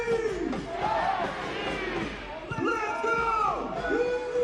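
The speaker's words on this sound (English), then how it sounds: "Crowd trying to will Monterey Bay back into this one." Stadium crowd at a USL Championship soccer match between Monterey Bay F.C. and San Antonio FC, a broad roar of cheering and shouting voices rising and swelling throughout, with a commentator talking over it.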